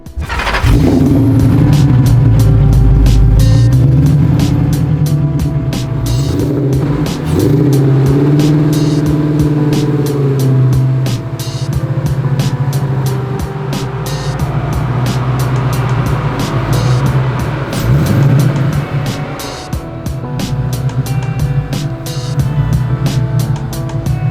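A 750 HP 1965 Mustang engine starts with a burst, then rumbles loudly and close up through repeated throttle revs, rising and falling in pitch while idling between blips.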